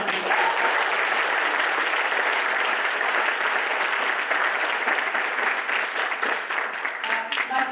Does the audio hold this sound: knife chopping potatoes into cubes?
no